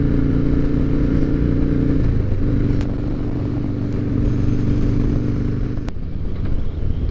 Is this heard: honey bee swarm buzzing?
no